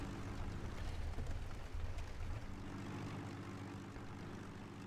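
A propeller aircraft drones overhead in the Sudden Strike 4 war strategy game, a steady low engine roar that swells then slowly fades, with distant rumbling underneath.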